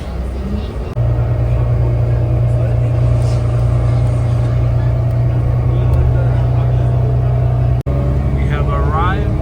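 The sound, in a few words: vehicle ride to the Ford Rouge factory line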